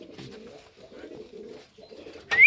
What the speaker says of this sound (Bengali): তৌফিক ভাইয়ের স্পেশাল কেজ ভাই বের করছে কবুতর